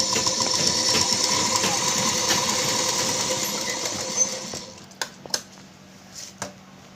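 A sewing machine runs steadily for about four seconds stitching double seams along the tucks of a blouse, then stops, leaving a few sharp clicks and light handling knocks, with no talking.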